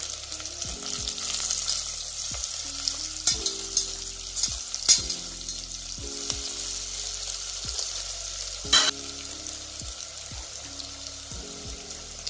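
Onions and crushed garlic sizzle steadily in hot oil for a mutton curry, a continuous close frying hiss with a few sharper crackles and pops, no talking.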